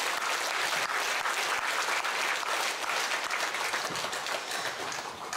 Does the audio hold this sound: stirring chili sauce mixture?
no